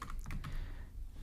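Quiet, rapid keystrokes on a computer keyboard while code is typed, a short burst of soft clicks close to the microphone.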